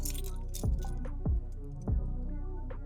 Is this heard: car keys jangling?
yes